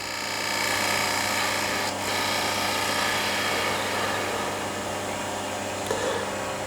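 A wood lathe spins while a tool takes a cut in the turning, a continuous loud whirring hum with a faint scraping texture, holding steady throughout with no voices.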